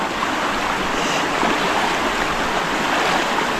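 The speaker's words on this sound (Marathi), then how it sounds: "फायनली आपण नदीमध्ये पोचलो बघा" A river stream flowing among large boulders makes a loud, steady, close rush of water that holds constant throughout without a break.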